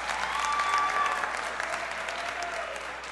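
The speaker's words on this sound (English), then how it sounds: "Give her another round of applause." An audience at a fall JV school show claps for a performer after a card trick. The applause is moderately loud and fairly even, then slowly tapers off, with faint tonal sounds above it.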